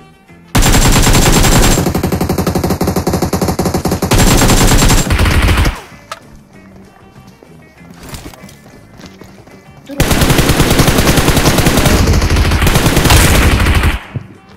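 Video game gunfire comes in bursts of rapid automatic shots, loud and dense. A long volley opens, a quieter stretch follows with a voice talking, then another sustained burst plays near the end.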